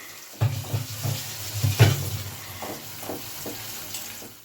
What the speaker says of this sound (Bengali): এবার মশলাটা ফ্রাই করা হবে। আমি একটু নাড়িয়ে দিচ্ছি।